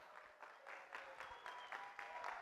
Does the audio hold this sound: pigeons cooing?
no